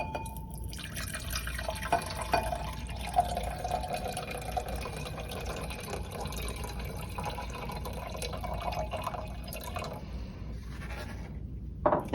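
Distilled water poured into a large beaker up to the 300 mark makes a steady, close filling trickle for about ten seconds before stopping abruptly.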